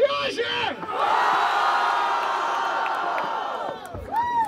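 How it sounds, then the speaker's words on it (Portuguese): Loud crowd at a Brazilian rap battle final in Grajaú roars, cheers and whoops in a sustained wave lasting several seconds, with shouted voices rising above the din at the start and end. "Mais uma vez, vamos lá! Barulho para Riagem!"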